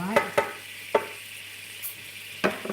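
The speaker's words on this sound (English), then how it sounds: "And then you want to just boil up this sauce." Sauce for fried rice noodles bubbles and sizzles in a pan, with a few sharp pops and clicks scattered over a quiet, hissing background.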